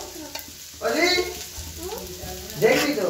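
Onions frying in a pan as potatoes go in: close sizzling and stirring scrapes sound loudly under a person talking.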